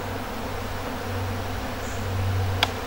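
Honeybees buzz around hives during a honey harvest in the Landes, a steady low hum with airy background noise and a faint click near the end.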